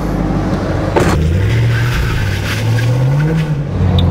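A fifth-generation Ford Mustang with its original exhaust pulls away, engine note rising and falling through the revs as a close, loud, throaty rumble with a brief whoosh partway through.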